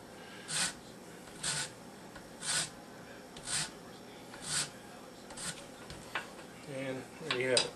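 A lemon rubbed against a grater for zest gives regular short scraping strokes, about one per second, close and fairly quiet over a low kitchen background.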